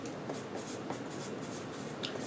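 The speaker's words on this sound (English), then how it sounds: "write that number down on paper first, preferably with a blue pen and white paper" Blue pen scratching across white paper, a steady close rustle of writing strokes running continuously with no voices.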